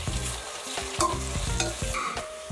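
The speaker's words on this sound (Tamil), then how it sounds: "இப்போ வெங்காயம் தக்காளி நல்லா வதங்கிடுச்சு." Onions and tomatoes frying in a pan with a steady sizzle while a spoon stirs them, scraping and clinking at the metal in irregular strokes, close and fairly loud with no talk.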